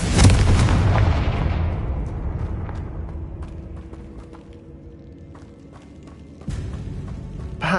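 A Confringo blasting spell in Hogwarts Legacy lands as a loud booming explosion that rumbles and slowly fades over several seconds, and a second heavy impact hits near the end.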